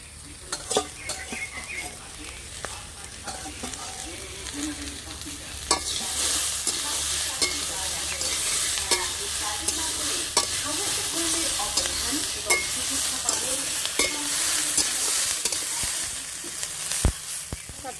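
Steady sizzling of green chillies and jackfruit seeds frying in oil for a pumpkin-leaf dish, with frequent scraping and stirring clicks from a utensil in the pan, close and fairly loud throughout.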